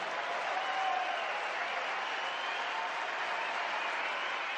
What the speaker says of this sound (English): Crowd crescending to a religious fervor on that change of ends.